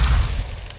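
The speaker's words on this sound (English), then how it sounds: "Missile strike inbound." A missile strike in a helicopter zombie video game lands as a single loud, deep boom with a rumbling burst that fills the short moment.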